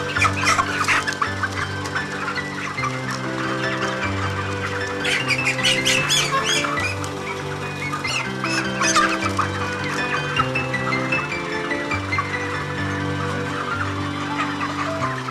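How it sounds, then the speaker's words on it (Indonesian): Broiler chickens squawk and cluck loudly in a poultry house as they are caught for weighing, with frantic overlapping calls and wing flurries that continue throughout. "Setelah itu kita menangkap ayam yang akan ditimbang secara acak."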